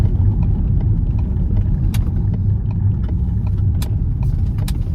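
A Ford camper van rolls slowly into a McDonald's car park, its engine a steady low rumble heard from inside the cab, with small clicks and knocks over the drone.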